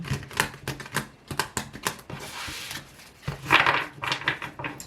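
Quick bursts of tarot card shuffling, rapid riffling clicks and flutters arriving in uneven clusters, fairly close and moderately loud, with no talking.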